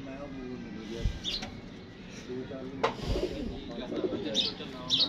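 Soft cooing of pet pigeons in short bursts on a rooftop, with faint chatter and rustling in the background.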